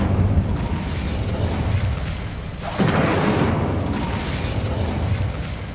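A fire spell cast in the video game Hogwarts Legacy bursts out with a sudden loud whoosh at about the midpoint, then roars on steadily over constant game ambience.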